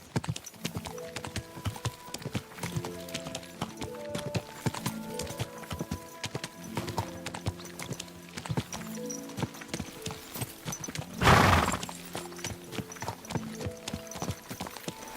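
Horse hooves clip-clop in a medieval video game, a quick steady rhythm of close, crisp hoofbeats, with a loud whinny near the end and faint background score beneath.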